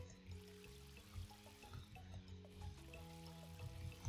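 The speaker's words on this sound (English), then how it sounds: "So let's go ahead and water these things." Water splashes and trickles as plants are watered in the farming game Ooblets, soft pouring and dripping sounds repeating faintly over a gentle background melody.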